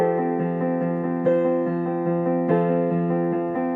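Piano playing an easy arrangement with every note struck at a flat, even loudness, a steady left-hand pattern repeating with chords landing in a stiff, mechanical rhythm.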